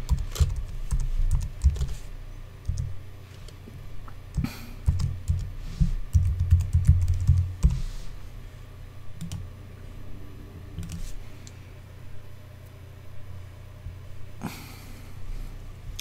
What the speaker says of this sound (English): So type in your username and your password